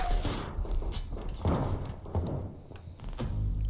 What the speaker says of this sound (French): Qui me tire dessus encore là?